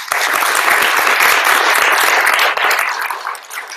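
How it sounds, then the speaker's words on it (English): An audience at an evening tech meetup applauds steadily and loudly for several seconds, a dense wash of clapping that thins slightly toward the end, with no talking. "So, a round of applause for them, please."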